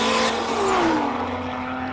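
Wade Van Zoomeren's hillclimb race car, a loud close engine note with a falling pitch sweep as it passes and pulls away at a hillclimb event, alone without talk.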